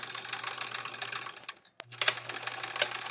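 A sewing machine stitching through the thick seam allowance of a foundation paper pieced quilt block, a rapid mechanical whirring run that halts briefly, then restarts with a few sharper clatters.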